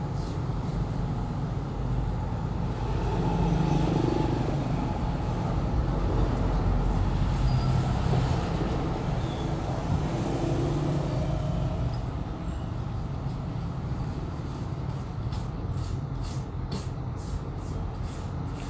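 Road traffic passing close to a phone repair workplace makes a low, continuous rumble that swells and eases slightly, with no distinct horns or voices.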